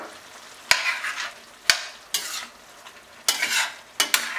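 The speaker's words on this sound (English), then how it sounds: "I'm going to add the fresh cut green chilies in at this point in time." Fresh-cut green chilies stirred into pork and beef mince curry with potato frying in a pan, heard as several distinct scraping, sizzling strokes with sharp clacks of the spoon, close and without talk.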